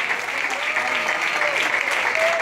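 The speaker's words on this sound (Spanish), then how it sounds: "Un fuerte aplauso" Strong applause rises from the crowd at a church group's anniversary celebration, a steady wash of clapping with a little cheering mixed in.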